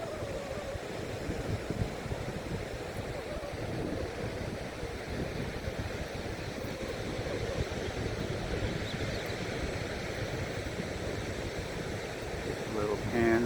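Ocean surf at Trestles beach rolls in a continuous wash of waves, mixed with buffeting wind noise on the microphone that holds at steady strength throughout.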